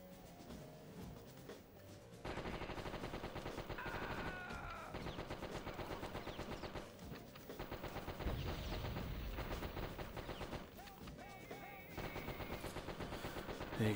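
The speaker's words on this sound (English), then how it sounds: "I can't actually see what I'm shooting at here." Rapid machine-gun fire from the Die Hard Trilogy video game rattles in long, steady bursts with brief gaps, loud and constant over game sounds.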